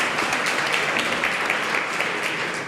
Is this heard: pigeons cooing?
no